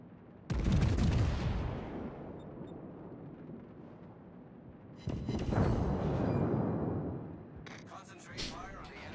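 Warship guns fire in the World of Warships video game, with two heavy booming salvos that rumble and decay over several seconds, and a sharper burst near the end.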